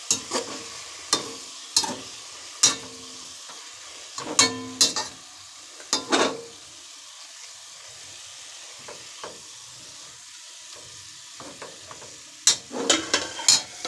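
Chicken pieces sizzle in a pan over a medium-low flame while a utensil stirs and scrapes them in repeated sharp strokes, each pass separated by a quieter hiss of frying.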